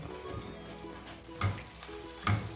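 A spoon or spatula works a thickening milk barfi mixture around a pan, with faint low scraping and soft thick squelches plus two brief louder knocks against the pan, quiet and close, no talking.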